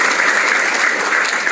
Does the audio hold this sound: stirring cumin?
no